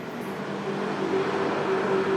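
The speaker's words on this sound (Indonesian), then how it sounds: "Soalnya ini ada lalu lalang motor mobil di jalan sehingga mengganggu kualitas suara." Motorbikes and cars passing along a street at night, a continuous low engine rumble and road hum with a faint droning tone, moderately close.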